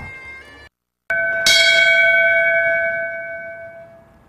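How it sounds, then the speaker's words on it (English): A single memorial bell rings out once with a bright clang that hangs and slowly fades, at an outdoor 9/11 remembrance for first responders at a city center building, with no voices. "police and firefighters stand at attention as a single bell is rung, honoring the first responders killed in the attacks"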